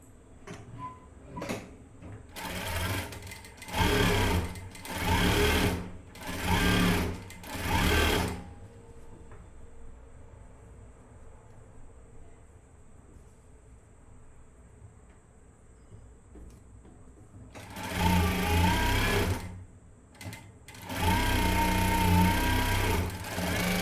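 A sewing machine stitching the folded lining of a blouse runs in several loud, rapid whirring bursts, then goes quiet before two more long stitching runs.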